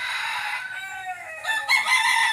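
A wild junglefowl (labuyo) rooster crows loudly and close by, one full drawn-out crow with a rising final note.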